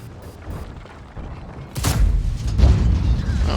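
A tank cannon in World of Tanks fires a single heavy boom partway through, followed by rumbling mechanical noise and a second dull impact, over quieter ambient game sound before it.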